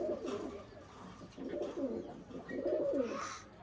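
Pigeons coo softly in a low, rolling rhythm, three or four gentle pulsing calls close by against quiet background noise.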